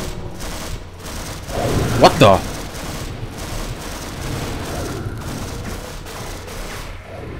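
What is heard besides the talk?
gunfire in a video game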